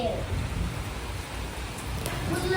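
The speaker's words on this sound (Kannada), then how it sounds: "ಜೋರಾಗಿ ಮಳೆ ಸ್ಟಾರ್ಟ್ ಆಯ್ತು" Heavy rain pours down steadily as a dense, close, broadband hiss, with no voices, keeping a constant wash throughout.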